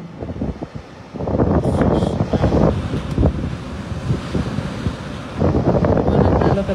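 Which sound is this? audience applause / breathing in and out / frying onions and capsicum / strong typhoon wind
strong typhoon wind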